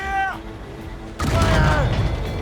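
Cannon fire in a naval battle in Assassin's Creed Rogue, with a loud booming blast erupting midway that rumbles on, preceded by a short voice and lingering tonal sounds.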